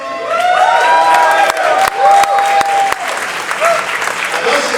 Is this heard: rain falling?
no